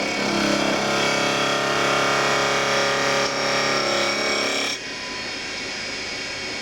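A grinding wheel sharpens the flutes of an end mill, with a steady, dense abrasive whine that holds for several seconds, then drops in level as the load on the wheel eases.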